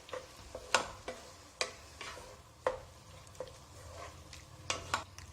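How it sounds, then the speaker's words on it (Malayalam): A spoon scrapes and knocks against a pot while jackfruit and jaggery are stirred in boiling water, irregular sharp clinks over a low bubbling simmer, close and fairly quiet with no speech. "ഇനി ഒന്ന് ഇളക്കി കൊടുക്കുക."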